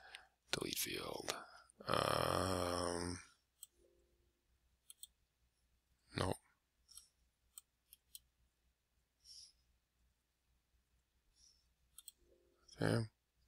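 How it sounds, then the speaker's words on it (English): Computer mouse clicks while deleting fields in ArcMap GIS software, a few sharp isolated clicks spread apart, close and faint, following a stretch of nearby speech at the start. "Right click, delete field."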